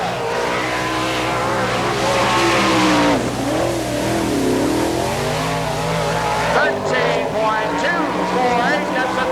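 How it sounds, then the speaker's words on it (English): The number 24 Bill McCroskey Chevrolet sprint car, driven by Terry McCarl, makes a qualifying lap at the All Star Circuit of Champions Winternationals in Gibsonton, Florida. Its engine roars loud and continuous, rising and falling through the lap, with an announcer talking over it. "From Pleasant Hill, Iowa, driving car number 24, Terry McCarl."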